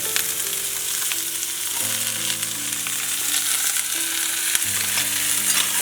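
Diced pointed gourd (kakrol) frying in oil in a pan for a prawn dish, a steady close sizzle running throughout with light stirring and scraping, no voices.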